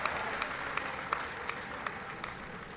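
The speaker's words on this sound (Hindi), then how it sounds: "एक जोरदार ताली बजा दीजिए" An audience claps at an Indian public event, a continuous moderate wash of applause with occasional louder individual claps popping out at roughly regular intervals, no talking over it.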